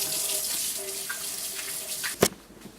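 Hands are washed under a running kitchen tap while making pizza, water streaming softly and steadily with a brief louder splash near the end.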